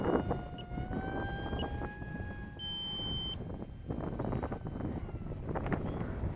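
An E-flite Habu S UMX small RC jet plane flying over an open field, its thin whining tone sweeping upward and fading as it passes at a distance, mixed with gusty wind buffeting the microphone.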